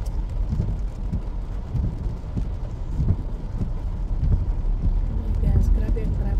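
Rain falls on a car crawling through heavy traffic, heard from inside as a steady broadband wash with a low road rumble underneath. The level swells slightly toward the end.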